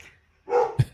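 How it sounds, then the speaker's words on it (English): A dog gives a short bark followed by a sharper, louder yip, two quick close barks after a moment of near silence. "Dogs barking."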